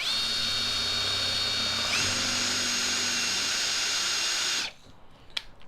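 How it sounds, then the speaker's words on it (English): A power drill running in reverse whirs steadily at high speed for several seconds, its pitch shifting slightly midway, then cuts off, followed by a couple of faint clicks. "put the drill bit in reverse and push on a little bit"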